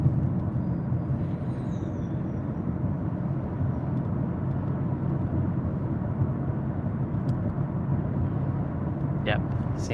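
A car engine idles smoothly and steadily just after fresh spark plugs went in, giving a continuous low rumble for the whole stretch, with a voice faintly present in the background.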